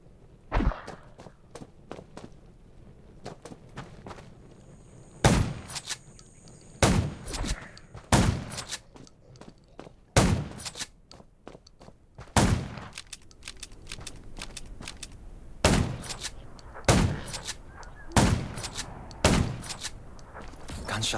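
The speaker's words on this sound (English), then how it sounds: "Gunshots will attract more." Gunfire in the zombie survival video game Undawn: sharp single shots ring out at irregular intervals, some in quick pairs, over a quiet ambient background with faint footsteps and clatter between them.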